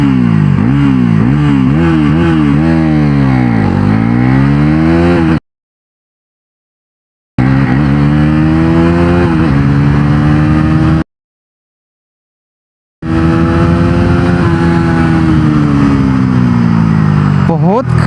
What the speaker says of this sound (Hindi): बहुत खतरनाक इनिशियल एक्सेलरेशन है और बिल्कुल बाइक 6 सेकंड के आसपास में ही 0 to 100 km/h की स्पीड अचीव कर लेती है